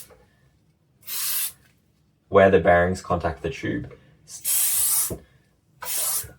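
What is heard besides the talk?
silicone spray being sprayed on an aluminium box tube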